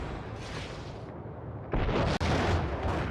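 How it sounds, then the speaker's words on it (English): Grenade blast in the video game Max Payne, a loud close explosion bursting in midway with a rumbling, noisy tail and a sharp crack within it. "Grenade!"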